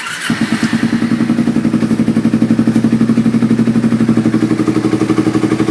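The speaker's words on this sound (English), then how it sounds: "We will start our bike." A Kawasaki Ninja 250 motorcycle engine fires up after an oil change and settles into a steady, loud, close idle with a fast even pulsing throb, no voices.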